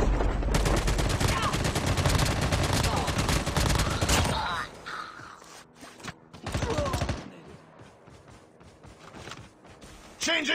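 Loud, rapid AK-47 automatic fire in the mobile shooter COD Mobile during a squad-versus-squad match: a dense sustained burst for about four seconds, then scattered shorter bursts with quieter gaps, ending in another shot.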